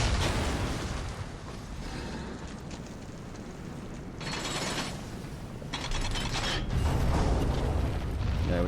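Bombs are destroyed in the video game Darksiders amid continuous creaking mechanical and rumbling game sound, with bursts of bright noise partway through and heavier low thumps near the end; no talking.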